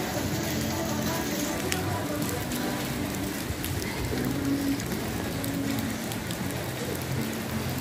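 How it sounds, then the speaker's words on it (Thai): Steady rain falling outdoors on a scenic mountain cable-car outing in Canada, a dense continuous patter filling the whole stretch at even loudness with no talk over it. "ฝนตกท่ามกลางฝนตก"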